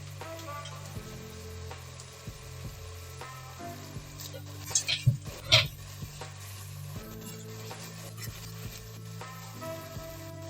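Tomatoes and whole spices being stirred in a cooking pot for chicken tikka biryani, soft scraping and sizzling with a few louder spoon clanks against the pot in the middle, over steady background hum.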